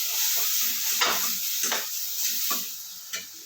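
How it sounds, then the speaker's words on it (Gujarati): Chopped onion stirred into a sizzling pan gives a steady frying hiss, with soft periodic scrapes of the spoon about every half second, close and moderately loud with no talking. "આપણે એ ઉમેરી દઈશું અને મિક્સ કરી દઈશું"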